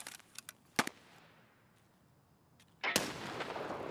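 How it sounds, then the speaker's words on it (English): A grenade blast in the shooter game Escape from Tarkov, preceded by a few sharp cracks and a loud thump, then a sudden heavy burst that rolls on into a sustained rumble. "I'm gonna throw a grenade at them."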